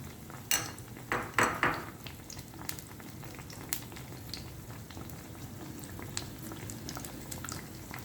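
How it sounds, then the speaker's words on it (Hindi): Potatoes frying in hot oil in a pan, a steady crackling sizzle with a few louder bursts and clinks of a utensil early on, close and alone with no talk. "इसी तरह मैं सारे आलू फ्राई कर लूँगी।"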